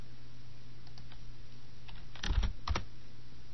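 Typing on a computer keyboard during an Excel spreadsheet entry, a few soft scattered keystrokes, then a short close cluster of sharper clicks near the end over quiet room hum.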